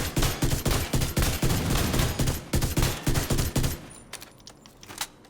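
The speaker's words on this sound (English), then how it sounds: "you want to fire 5 bullets from your right shoulder, 1 from your left, back to 5 again." Merciless exotic fusion rifle from Destiny firing in a video game, with loud rapid bursts of gunfire repeating in tight clusters for several seconds, then a few scattered quieter shots.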